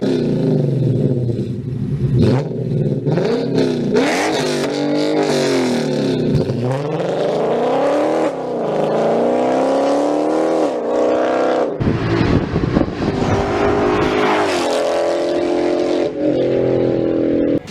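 A Lexus IS F's 5.0 V8 engine revs hard and repeatedly, rising and falling in pitch with loud throaty sweeps, close by and dominating throughout.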